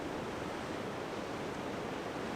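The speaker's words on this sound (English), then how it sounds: "the waves just glide over it" Ocean waves glide over a flat seaside rock at dusk, a steady broad wash of surf with no distinct breaks, continuous and fairly loud.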